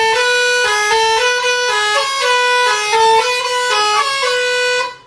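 A vehicle's musical horn, a recently added accessory, plays a loud, steady melody of sustained electronic tones stepping through a tune for about five seconds before cutting off.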